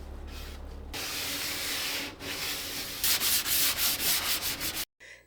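Sanding pad scuff-sanding the primed finish of a wooden dresser, with continuous rough rubbing strokes that grow louder and more rhythmic, ending abruptly in silence.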